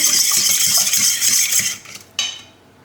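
Salt and oil being stirred together for tutmanik dough, with a steady, rapid metallic whisking and clinking of a utensil against a bowl, loud and close, ending with one sharp clink before fading.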